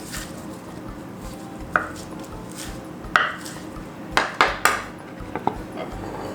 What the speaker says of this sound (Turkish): bunu da şöyle çok ince olmayacak şekilde biraz iri bir şekilde doğruyorum